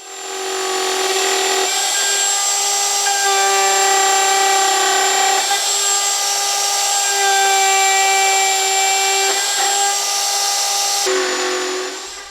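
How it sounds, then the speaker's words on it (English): A horizontal mortising machine cuts mortises in wood for a hope chest, giving a steady, loud motor whine that runs near-continuously throughout with slight shifts in pitch as the cut changes, and no talking. "I then used my horizontal mortising machine to create all the mortises."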